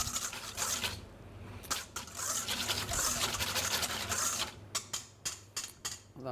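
Egg custard mix whisked briskly in a bowl for eggy bread, a steady scraping, splashing rhythm with short pauses and a few sharper clinks of the whisk near the end, close up with no voices.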